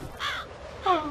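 A raven in the video game F.E.A.R. gives two hoarse caws spaced about half a second apart, moderately loud against a quiet in-game background.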